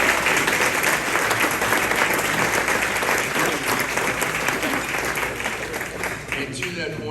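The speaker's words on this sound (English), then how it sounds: "I think it's important to give a huge round of applause to the amazing Outreach staff" Luncheon audience at the Outreach 28th Annual Long Island event applauding staff: sustained, dense clapping from a large room, loud and even throughout with a faint voice emerging near the end.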